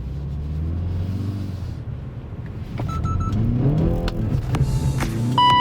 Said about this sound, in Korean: 제가 방금 가속페달을 끝까지 밟았는데도 RPM이 쭉 줄어들어요